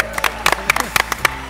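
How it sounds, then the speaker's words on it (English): A conference audience at ATS London claps in a brief scattering of sharp, separate hand claps over a murmuring crowd, with voices mixed in. "Round of applause for Pippa."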